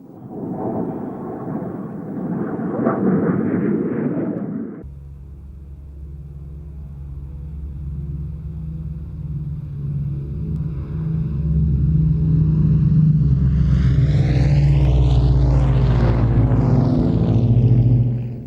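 An Avro Shackleton piston-engined aircraft performs a roll display at an air fete, its deep engine drone building into a loud, sustained roar with rising harmonics as it passes close by, following a burst of broadband rumble.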